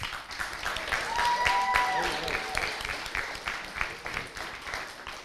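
An audience at the final of an eloquence contest in Le Mans applauds with steady, moderately loud clapping that lasts the whole stretch, while a voice talks briefly over it.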